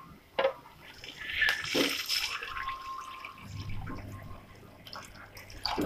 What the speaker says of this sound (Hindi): ये हमने पानी डाल दिया है,